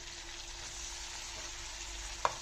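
Tomatoes fry in a pan with a faint, steady sizzle, interrupted near the end by one sharp utensil tap.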